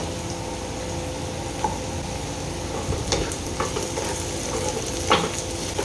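Madras onions frying in a pan for a Marathi chicken rasa, a steady close sizzle with occasional stirring clicks and scrapes of a spoon against the pan.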